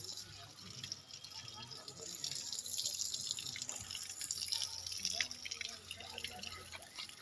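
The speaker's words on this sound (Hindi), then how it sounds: "पानी की धारा बह रही थी।" A stream of flowing water in an outdoor story scene near a dried henna bush, a soft continuous trickle with scattered drips and splashes, faint and close, with a voice narrating over it.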